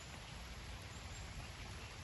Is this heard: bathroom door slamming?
no